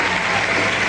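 A brief burst of dense, loud applause from a large crowd in a hotel ballroom on election night, continuous clapping with no pauses.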